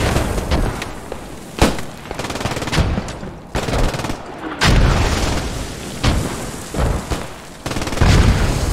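Heavy artillery impacts and machine-gun fire in the WWII shooter Post Scriptum, with loud booming blasts and bursts of rapid shots layered into a dense, continuous barrage close by.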